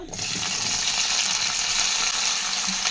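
Pieces of ivy gourd fry in hot oil in a kadai on a stove, giving a steady, close, hissing sizzle that holds even and unbroken throughout.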